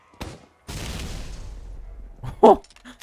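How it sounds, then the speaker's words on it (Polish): Explosion in the video game Team Fortress 2, on a zombie map: a sustained blast rumbling for about two seconds, followed by a short, sharp burst and a quick thump. "Eksplozja chyba jest o wiele większa."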